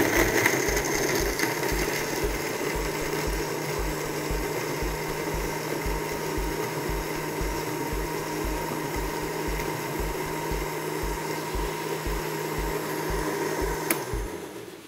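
An electric blender runs continuously, whirring mango milkshake with ice in a steady motor drone with rapid pulsing, then cuts off near the end.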